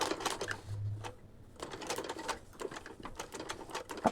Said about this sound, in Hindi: अभी देखो जैसे मैंने यहाँ पे सिलाई करी